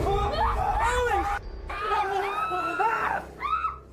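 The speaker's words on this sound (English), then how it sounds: "They all scream as they watch the door stand ajar for a moment before slowly closing again." A paranormal investigation crew screams loudly in shrill overlapping bursts, with a brief pause before a second longer wave of panicked screaming that tapers into excited voices.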